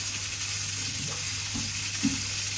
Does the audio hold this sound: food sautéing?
yes